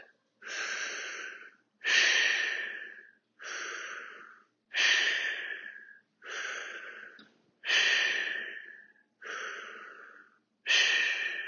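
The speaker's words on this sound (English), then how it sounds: "Let's do 4 deep breaths" Eight slow, deep breaths taken during a hamstring stretch in a fitness class, each a long airy inhale or exhale spaced by short pauses, close and clear with no talking.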